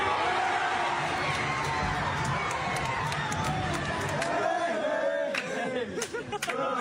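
A theater crowd in chaos, shouting, jeering and mocking people being removed, with a dense steady roar of many voices and individual yells rising near the end.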